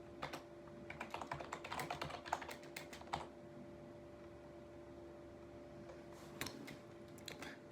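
Computer keyboard typing during Java coding, quiet clustered bursts of keystrokes in the first few seconds, a pause with faint steady background hum, then a few more keystroke bursts near the end.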